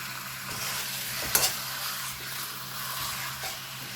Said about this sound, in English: I'm gonna stir this around and brown it.